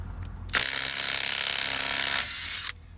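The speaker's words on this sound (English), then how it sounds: "So you can see the Dewalt had really no problems taking off that fastener." A cordless DeWalt 3/8-inch impact wrench on its high setting hammers loudly up close for about two seconds while removing a fastener, then drops to a lighter whir before stopping.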